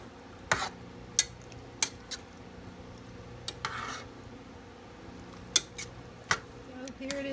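A spoon stirs taco soup in a pot, with sharp scattered clinks and scrapes against the pot over a quiet background, a few knocks spaced irregularly and close by.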